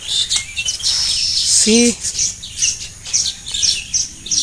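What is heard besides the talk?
weaver birds chirping at their nests on a palm tree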